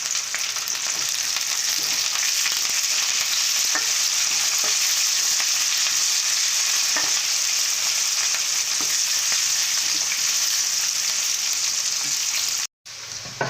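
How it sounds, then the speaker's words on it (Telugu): Onion pieces, garlic, dried red chillies, curry leaves and tempering spices frying in hot oil give a steady, loud sizzle with faint stirring scrapes, ending in a brief cut near the close. "చూడండి పోపు వేగేసింది."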